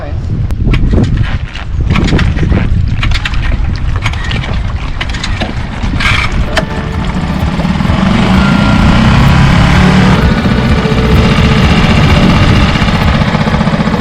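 The inboard engine of a Pacific Seacraft 40 sailboat runs after a choke problem, a loud, steady, close rumble with rattling mechanical texture that holds throughout.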